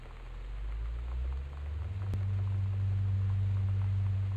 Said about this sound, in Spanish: Uf, hace más ruido que lo que ventila.